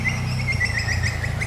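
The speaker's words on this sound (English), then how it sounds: "that's an interesting bird sound" A bird gives a quick series of high, repeated chirping calls over a steady low background hum.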